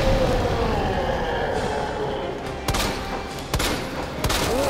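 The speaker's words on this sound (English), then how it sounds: "Have a fucking grenade." A grenade blast in the video game Resident Evil 2 lands as a couple of sharp, loud bursts over a dense, steady game soundscape, with no voices.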